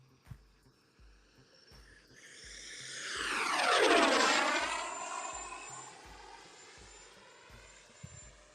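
An E-flite F/A-18D RC jet with an electric ducted fan flies past. Its rising whine swells to a loud, near pass with a falling Doppler sweep, then fades into the distance.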